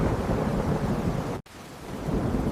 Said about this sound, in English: Heavy rain began to pour, turning the dirt path into slippery mud.